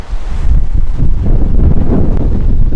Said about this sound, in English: Look at that tremendous amount of wind energy down there.